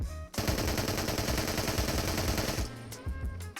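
Full-auto pistol fire in the game Into the Radius, a loud, rapid continuous burst of shots lasting almost three seconds, followed by a few scattered shots and mechanical clicks.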